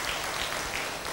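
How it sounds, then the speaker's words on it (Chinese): Audience applause at a Buddhist dharma talk, a brief, dense burst of many hands clapping with no talk over it. "掌声鼓励一下"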